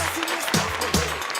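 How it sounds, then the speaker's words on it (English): A live show audience applauds in a brief burst of broadband clapping with a voice talking over it. "I gotta give you a round of applause as well"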